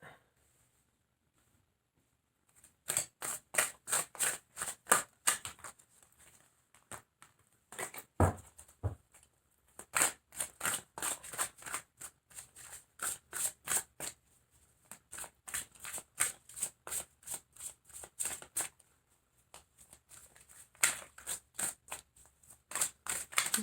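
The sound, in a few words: tarot cards being shuffled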